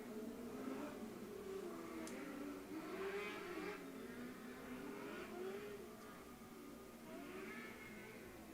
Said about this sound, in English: Cleveland Grain Systems non-weight micros make their way out onto the